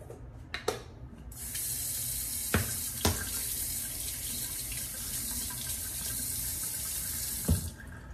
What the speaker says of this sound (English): I'm gonna go ahead and wet the brush